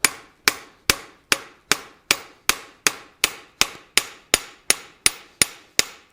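A hammer strikes a forged steel bar bent over in a vise, about fourteen sharp, ringing blows at a steady, even pace, loud and close with no talk.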